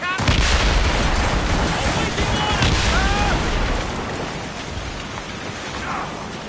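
Ship cannons firing during a naval battle in Assassin's Creed Rogue: a loud, continuous barrage of booming blasts over crashing sea and rain, with shouted voices mixed in.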